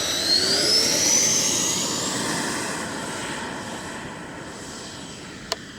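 A FlyFans L-39 Black Diamond RC model jet spools up on takeoff, its turbine whine loud and rising at first, then gradually receding as the aircraft climbs away, with a brief click near the end.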